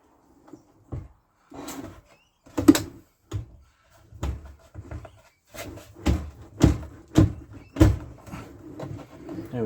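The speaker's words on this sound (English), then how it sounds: "And here's this drawer. So I'm just going to guide them in." Kitchen drawers in a caravan are slid into place, giving a series of irregular wooden clunks, scrapes and bumps, close and fairly loud, with brief pauses between them and no talking.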